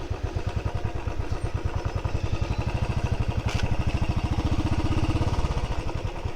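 A two-wheeler motorcycle riding on a road, its engine running close with a rapid steady pulsing thrum that rises slightly in pitch partway through, no speech.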